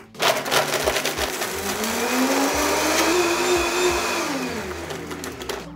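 A blender crushes ice for a Miami Vice cocktail, starting with a brief clatter of cubes, then settling into a loud, steady motor whine that holds for several seconds before tapering slightly near the end.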